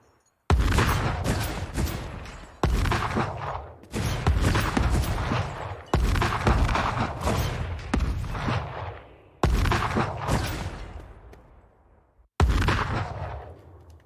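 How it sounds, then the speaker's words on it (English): Heat-seeking rocket launcher firing in the PlayStation game Dreams: six loud booming launches spaced a couple of seconds apart, each with a sharp attack and a long rumbling tail that fades before the next. "This is how I'm making heat-seeking rocket launcher for my game right now."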